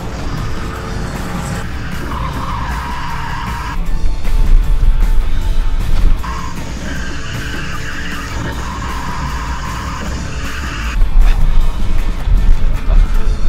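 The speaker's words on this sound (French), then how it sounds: "Alors je vais tenter un drift." A car fitted with concrete tires drifts at around 130 km/h, giving a steady, harsh scraping skid that swells louder in two longer surges, close and continuous with no talking.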